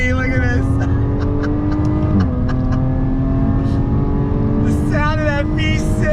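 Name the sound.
2021 Jaguar F-Type supercharged V6 engine accelerating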